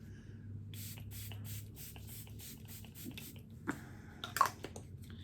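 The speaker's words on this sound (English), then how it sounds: "I'm going to use the Stay Spray from Tarte." Tarte Stay Spray setting spray misted onto a face: a run of quick, soft, airy pump spritzes in rapid succession, quiet and close, followed by a few faint handling clicks.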